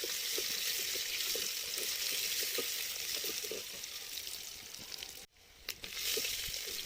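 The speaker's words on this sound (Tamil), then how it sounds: "வெங்காயம் நல்லா வதங்கட்டும்." Chopped onion frying in a pan, a continuous close sizzle with light crackles and occasional stirring taps, briefly dipping near the end before resuming.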